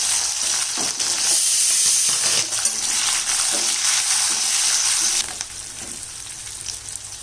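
Shallots and onions, roughly cut, hit hot oil for a Tamil bitter gourd tamarind curry, giving a loud, steady sizzle with stirring scrapes throughout that eases slightly near the end.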